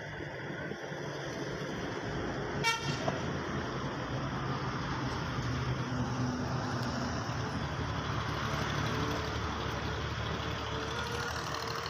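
A Massey tractor engine idles steadily nearby at a tractor showroom in Punjab, Pakistan, a constant low rumble with a brief rattling knock partway through.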